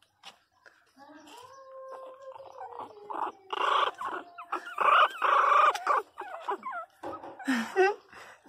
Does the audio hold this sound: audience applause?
no